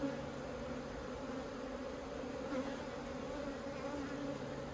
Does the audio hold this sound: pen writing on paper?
no